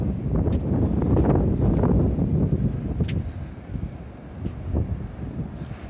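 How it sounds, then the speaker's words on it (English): Wind gusts across an overcast beach with blowing sand, a steady low roar of buffeting air against the microphone, strongest at first and easing slightly, with no one talking. "it is overcast and there is a little bit of wind"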